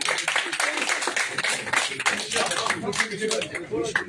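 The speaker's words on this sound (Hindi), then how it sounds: "मैं ख्वाजा साहब से गुजारिश करता हूँ जोरदार तालियों के साथ" Audience applause at a political gathering in Greater Jammu, a brisk burst of many hands clapping throughout, mixed with crowd noise and talk.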